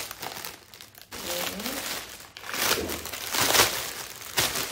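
Crinkly plastic packaging around a Christmas decoration is pulled open, a loud, close crackling that comes in waves, with a voice speaking over it.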